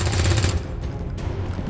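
Video game gunfire from XCOM 2 bursts loud and close as a short rapid volley, then gives way to a fainter rumbling tail and scattered impacts.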